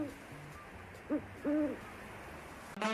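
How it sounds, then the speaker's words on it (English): An owl hoots a few times at a moderate distance, short soft hoots spaced apart against a quiet, faintly hissing background, ending with a sharper brighter call. "The correct answer is an owl."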